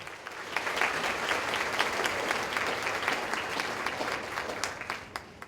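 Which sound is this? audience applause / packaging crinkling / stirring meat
audience applause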